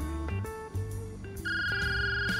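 A telephone rings in the Brewpub Simulator video game, a run of bright electronic tones that shift pitch in short steps over a low game backdrop, clear and close with no talking.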